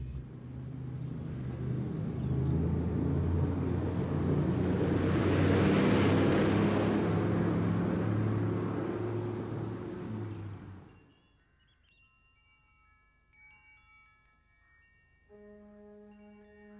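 A car approaches and passes close by, its engine rumble building to a loud peak before fading out abruptly, followed by quiet room tone and a faint tonal note.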